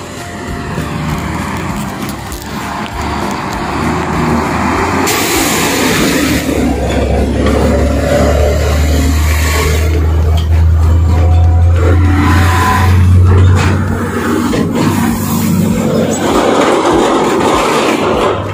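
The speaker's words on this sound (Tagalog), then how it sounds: "Traffic na traffic ngayon kasi morning." Heavy morning road traffic, with cars and engines passing close by in a continuous loud rumble and swells of revving and rolling tires, no voices over it.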